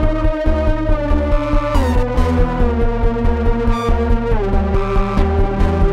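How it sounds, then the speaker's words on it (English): Doom-inspired synth lead shaped with a filter and distortion, a gritty sustained tone shifting in pitch over a pulsing, throbbing low-end pattern, loud and dense throughout. "we're gonna make a doom inspired lead sound"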